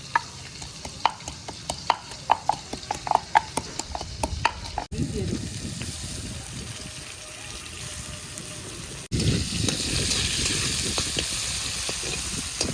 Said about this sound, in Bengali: ফোড়নটা ভালো করে লাড়াচাড়া করে নেব